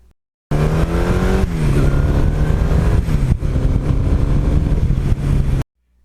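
A 1982 Suzuki GS1100E motorcycle engine runs close by with a loud, steady low drone and a slight shift in pitch partway through, starting and stopping abruptly.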